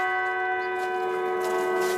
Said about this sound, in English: Bells toll for Anthony Heffernan.